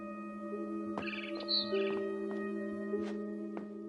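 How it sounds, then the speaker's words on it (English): Birds chirping outside a window in the video game What Remains of Edith Finch: a few short, faint tweets scattered over a steady ambient hum and sustained tones. "Then I heard chirping outside my window."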